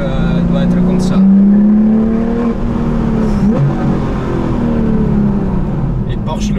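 Porsche 911 R with a naturally aspirated, non-turbo flat-six revving up in a steady rising drone, loud and close, with a brief sharper burst midway and some background noise.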